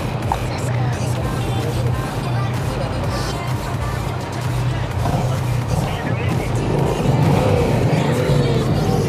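A Yamaha MT-07 motorcycle riding steadily in first gear, its engine a low continuous drone mixed with wind and road noise, with a rider talking throughout.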